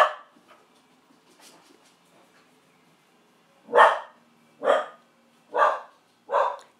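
A dog barks in the background while bin men arrive, with four loud, evenly spaced barks closing the passage after a few faint ones earlier, alone with no talk.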